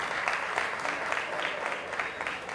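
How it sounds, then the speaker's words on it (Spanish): Audience applause rings out at a cultural event in Yanga, Veracruz, a steady, even clapping from a crowd that holds at moderate loudness throughout. "Un fuerte aplauso nuevamente para usted."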